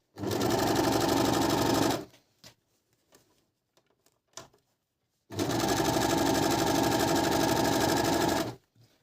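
A Merrylock 3000CL overlock sewing machine stitches and trims fabric edges in two long, loud, rapid whirring bursts, with a pause between them filled by faint clicks and handling noises.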